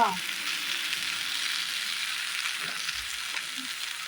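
Burnt curry frying in a home kitchen pan while being stirred now and then, giving a steady close sizzle with a soft scrape near the end.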